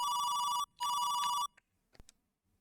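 Electronic telephone ring in the Commodore 64 game Yes Prime Minister: two loud, close bursts of a trilling beep with a short gap between, then a few faint clicks and quiet.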